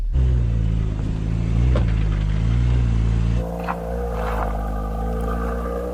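A Porsche crawling through an off-road challenge course with one wheel lifted, its engine droning low and steady before the tone shifts and quiets, with faint knocks and scrapes from the terrain.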